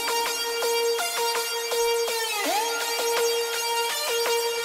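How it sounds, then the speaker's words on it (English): Bright Serum synth lead remaking a track's hook: a rhythmic series of sharp plucked notes with rich harmonics and a pitch-dipping swoop midway, loud and alone without any talking. "So we're going to be making this lead. It sounds like this."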